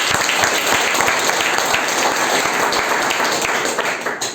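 A seated audience at a company business meeting breaks into loud, dense applause. The clapping stays steady and full throughout before easing slightly at the end.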